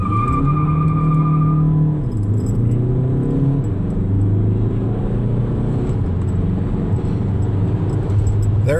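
Tuned Volkswagen TDI diesel with a DSG gearbox launching at full throttle from a standstill, a loud close engine roar climbing through rapid gear shifts, steady and continuous with no talking.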